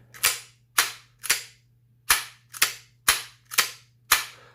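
Eight sharp metallic clacks, spaced in quick pairs and singles, as an airsoft rifle bolt handle is worked back and forth, crisp and close with a faint steady hum beneath.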